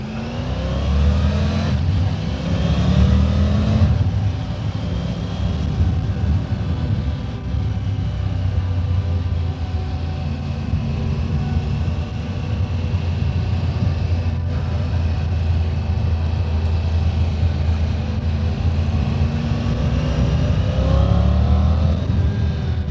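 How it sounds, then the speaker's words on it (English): Triumph Tiger 900 GT Pro motorcycle accelerating, its engine roaring steadily and loud throughout with rising and falling revs, wind rush blended in and no talk. "You definitely can give it gas and it goes."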